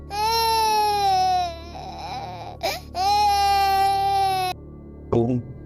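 A four-year-old girl cries in long wailing sobs, two sustained bursts separated by a shaky breath, then a short whimper, close and loud as a story sound effect.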